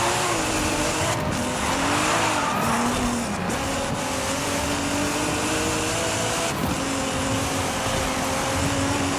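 A 2023 Nissan Z, rear-wheel drive with a Forza Aero setup, in the Forza racing game screams at high revs as its tires spin and squeal, the engine note rising and dipping loudly and continuously with no talk.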